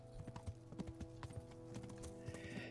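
Horse hooves clip-clop in a steady walking rhythm in the medieval video game Kingdom Come Deliverance, quiet and regular over a soft, sustained game music background.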